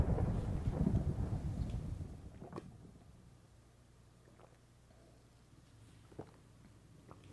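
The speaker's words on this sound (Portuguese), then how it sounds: "Não tá chovendo de novo, né, cara?" Heavy rain hisses with a low rumble of thunder in Minecraft, easing after a few seconds into quieter patter with a couple of distant cracks.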